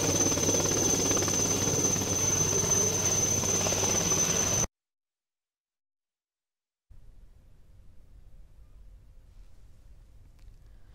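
A rescue helicopter over a flooded river at Narmala in Karimnagar district gives a loud, steady rotor roar and whine that cuts off abruptly, followed by a faint low rumble.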